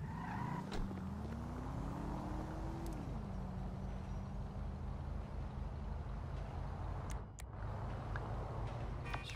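A slow car in GTA 5 drives along with a steady engine drone, its pitch rising then dropping as it shifts, with a brief rattle near the end and no talking.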